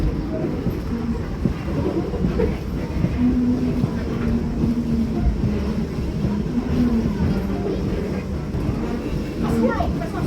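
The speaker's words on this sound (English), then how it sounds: "enjoy the sounds that a steam locomotive makes" A steam locomotive hauling passenger cars at Greenfield Village rumbles along continuously with rolling wheel noise and a faint clatter of cars, heard from on board at a steady, fairly loud level.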